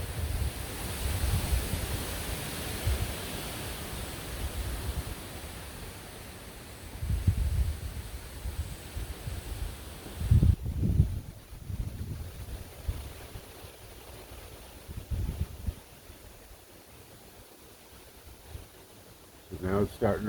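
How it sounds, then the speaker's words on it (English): Strong Hurricane Idalia wind roars and buffets the microphone in surging gusts before dawn, with brief lulls between heavier blasts and a voice speaking faintly at times. "the wind suddenly picked up noticeably. Some big gusts, blew a ladder over"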